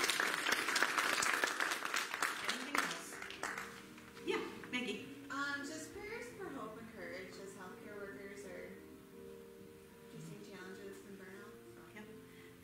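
A room's audience breaks into clapping that is loudest at the start and thins within a few seconds, giving way to a speaking voice that carries on over faint scattered claps.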